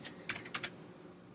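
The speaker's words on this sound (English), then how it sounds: "Pardon my typing." Typing on a computer keyboard, a short close burst of quick, crisp key clicks, irregular and then trailing off, quiet, with no talking.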